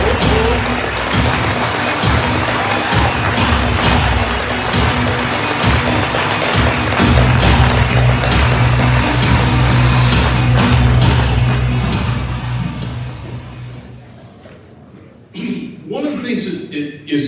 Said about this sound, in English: give me a big round of applause for Colonel Darel Maxfield